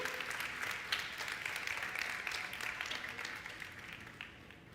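A church congregation gives a round of applause to God during a sermon, with steady, moderately quiet clapping from many hands that holds evenly for several seconds, then gradually thins.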